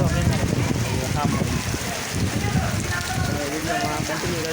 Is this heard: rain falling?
yes